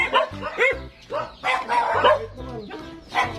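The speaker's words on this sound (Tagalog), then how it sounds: "yung maligaw na aso kagabi" A dog barks repeatedly in close, loud bursts, an uneven series of sharp woofs with brief gaps between them.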